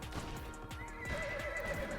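Horses in the video game Bounty of One, quick galloping hoofbeats with a high whinny rising over them midway, fairly quiet and without speech.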